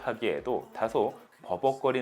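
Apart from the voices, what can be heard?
No distinct noise like a dog, phone or traffic.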